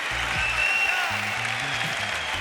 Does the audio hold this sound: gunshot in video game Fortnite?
no